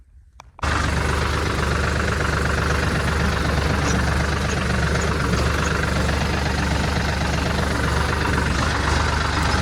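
A tractor engine starts abruptly after a brief quiet moment, then runs at a loud, close, steady idle with a low rhythmic chugging for the rest of the clip. No one speaks.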